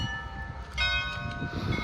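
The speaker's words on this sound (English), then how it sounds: "It's perfect timing as the bells are ringing." Cathedral bells at St. Michael's Cathedral in central Kyiv ring out with rich, sustained metallic tones, overlapping strikes against a low background rumble.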